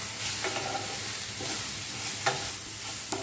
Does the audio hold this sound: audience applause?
no